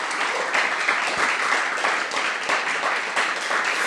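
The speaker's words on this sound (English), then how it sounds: "How about a big round of applause for Sam Wiebe," An audience at a library author event gives Sam Wiebe a warm round of applause, a dense, continuous patter of many hands clapping close by with no talking over it.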